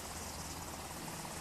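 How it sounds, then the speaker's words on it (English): An HH-60G Pave Hawk helicopter in flight gives a steady, dense rotor and engine roar, even and continuous throughout with no talk. "HH-60G Pavehawk helicopters that can be refueled in flight"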